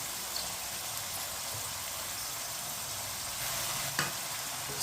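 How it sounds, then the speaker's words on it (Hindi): Chopped tomatoes, green chillies and shredded cabbage being stirred together in a hot pan for vegetable vermicelli, a soft continuous sizzle with faint scraping of the spoon. "सब चीज़ों को अच्छी तरह मिक्स कर लेंगे।"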